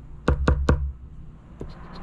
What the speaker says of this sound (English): The good luck knock, 61.